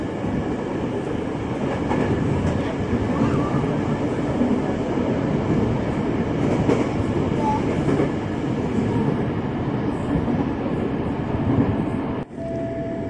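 A KRL Commuter Line electric train running from Gondangdia toward Manggarai, heard from inside the car as a loud, steady rumble of wheels and motors with faint rhythmic clatter and a brief sharp clunk near the end.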